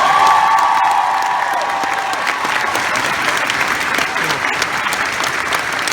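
Loud, sustained audience applause mixed with cheering and a few whoops, dense clapping that stays strong throughout, with scattered voices in the crowd.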